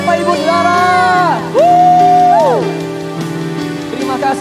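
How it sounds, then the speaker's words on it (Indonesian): A church congregation at an evening prayer service shouts and cheers together in a loud, sustained burst, with voices rising and falling in pitch and a strong held cry in the middle. "Sorakan haleluya Bapak Ibu Saudara."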